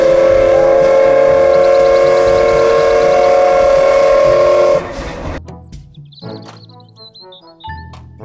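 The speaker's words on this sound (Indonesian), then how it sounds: "Kereta Thomas." A Thomas toy steam train blows a loud, sustained whistle for several seconds, then cuts off, leaving chugging and scattered electronic toy tones and jingles.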